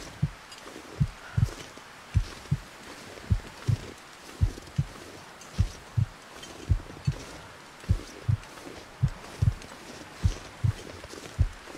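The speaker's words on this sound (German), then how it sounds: "Wir hören schon unseren Herzschlag, das heißt, wir sind dann gleich tot." A slow, steady heartbeat from the survival game The Long Dark thumps at regular intervals, with roughly eighteen low, close beats over a faint background hiss, unaccompanied by speech.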